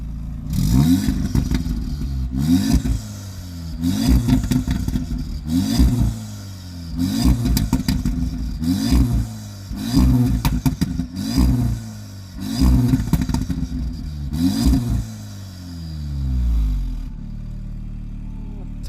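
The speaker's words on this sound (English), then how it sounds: "let's take a listen to the exhaust and experience how this thing drives" A 2020 Audi S3 8V exhaust roars through repeated hard accelerations, each rising rev followed by a pause or gear change, loud and close, then settles to an idle rumble.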